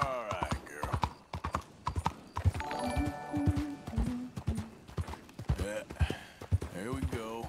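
Horse hooves clip-clop at a steady walking rhythm in the Red Dead Redemption II video game, close and clear, with someone talking over them and a brief whinny-like tone partway through.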